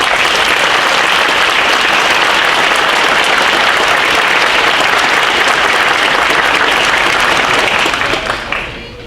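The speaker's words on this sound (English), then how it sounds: "Please give these graduates a deserved round of applause." An audience applauds nursing graduates at a pinning ceremony with sustained, loud, dense clapping that holds steady before tapering off at the end.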